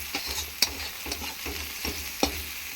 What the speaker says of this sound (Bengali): পেঁয়াজ, আদা, রসুন, লঙ্কা বাটা, কাঁচা লঙ্কা ভালোভাবে ভেজে নিতে হবে।